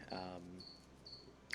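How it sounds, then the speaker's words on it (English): Indoor pet crickets, kept as feeder insects, give three soft, evenly spaced chirps after a brief voice at the start. "I don't know if you can hear the crickets in the background,"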